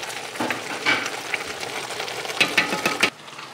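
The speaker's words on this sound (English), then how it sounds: "I'm gonna go throw that in the pot with the meat that is working its way towards browning." Garlic and meat brown in a cooking pot, a soft, steady sizzle with irregular scraping and stirring clatters that stop abruptly near the end.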